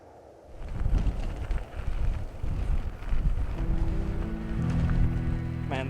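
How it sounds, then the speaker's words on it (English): Strong wind gusting through a small valley in sparsely populated Spain during a bikepacking trip, a loud continuous roar buffeting the microphone with no one speaking, while a low steady tone enters toward the end. "Suddenly the wind started blowing really hard."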